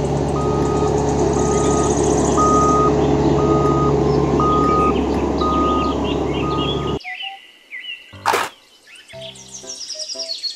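Toy steamroller playing a loud, steady electronic reversing beep over a droning motor for about seven seconds, then going quiet, followed by a sharp clack and scattered small chirps and clicks.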